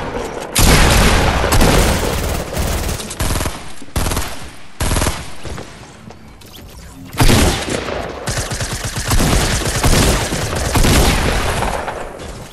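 Grenade explosions in a video game ring out as a dense, loud barrage of booming blasts and crackling bursts that runs almost continuously, dipping briefly between volleys.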